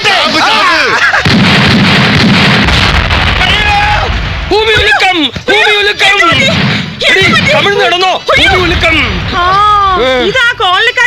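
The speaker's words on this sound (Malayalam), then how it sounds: "ഇതാ കോളനിക്കാര് പടക്കം പൊട്ടിക്കുന്നതാ." Firecrackers burst repeatedly in a street during a victory parade, loud close bangs coming in uneven clusters over a crowd of excited voices and shouting.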